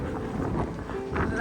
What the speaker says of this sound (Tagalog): Ang lamig! Ang lakas ng hangin!